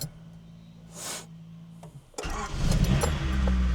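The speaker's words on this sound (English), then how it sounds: "The car is on. It started up real quick." A Honda Civic Si, a JDM car after a tune-up, cranks briefly then catches and fires up, settling into a loud, rough idle with a rising roar; no voices.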